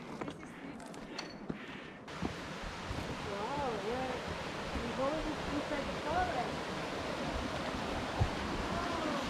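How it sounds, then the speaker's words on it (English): Creek water flows beneath a hiking trail bridge on Mount Currie near Pemberton, BC, as a steady rushing wash after a short quieter start, with a voice talking over it. "So now we're crossing another creek through the bridge"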